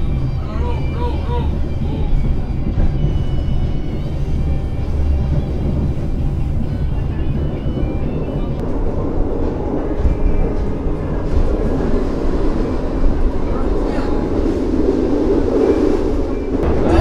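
A passenger train running as it nears Banyuwangi Kota station, with a steady low rumble and rolling noise heard from inside the carriage, and faint voices in the background.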